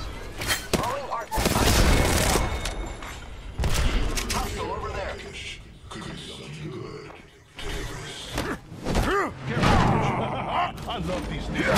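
Gunfire in Apex Legends comes in several sharp bursts and booms spread through the scene, mixed with mechanical clanks and creaks, with voices talking in between.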